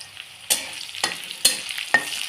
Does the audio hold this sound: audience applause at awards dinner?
no